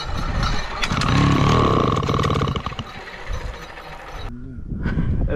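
A moped engine runs at idle in a home setting after an air filter refit, a busy mechanical putter that cuts off abruptly near the end before a brief restart of noise.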